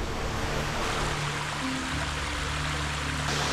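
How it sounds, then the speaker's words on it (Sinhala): Kumbal Oluwa waterfall dropping in two tiers, a dense, continuous roaring rush of falling water, loud and close, steady throughout with no voices. "දැන් මේ මෙතන තමයි ඇල්ල තට්ටු දෙකකට වැටෙන්නේ"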